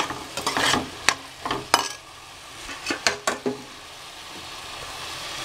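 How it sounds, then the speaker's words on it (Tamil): Tomatoes and masala sautéing for chicken biryani, a soft sizzle under repeated scraping and clinking stirs of a spoon against the pan, fairly close and alone. "தக்காளி போட்டு நல்லா வதக்குங்க."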